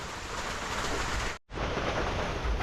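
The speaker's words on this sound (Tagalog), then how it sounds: "Ay, naulan. Naulan mga idol. Ayan, lumalakas." Rain falling outdoors and getting heavier, a dense, even hiss filling the whole moment, briefly cutting out once before resuming.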